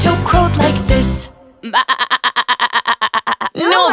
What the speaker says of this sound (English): No, Bartolito, that's a sheep